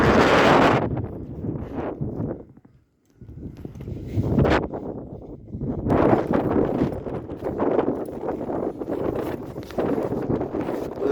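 Hoof clops and shuffling movement of a young pregnant mare outdoors, mixed with heavy wind buffeting the microphone; brief quiet dip partway through.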